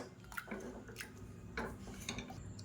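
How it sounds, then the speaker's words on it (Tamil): Cooked dal, pumpkin, onion and tomato for sambar being mashed in a pot with a masher: soft, wet squelches and dull metallic knocks at an irregular pace, quiet and close. "இப்போ மேஷர் வச்சு நல்லா மசிச்சு விட்டுக்கலாம்."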